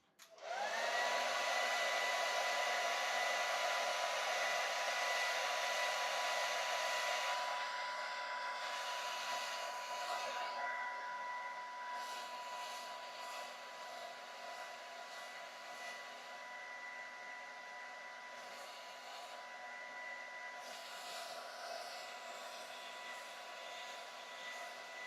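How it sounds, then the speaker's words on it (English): A hair dryer starts with a click and blows continuously to dry red ink on artwork, a loud steady whirring drone with a fixed whine that eases slightly after several seconds and runs on alone. "I have here the hair dryer."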